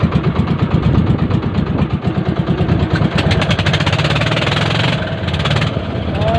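A boat engine runs steadily at a mid-pitched idle, loud and close, its rapid chugging pulse continuous throughout with slight variations in throttle.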